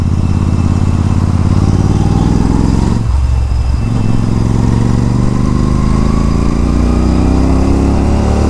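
A loud Royal Enfield Guerrilla 450 motorcycle engine runs close by, rumbling and revving with a brief dip and backfire sputter partway through before settling back to a steady drone.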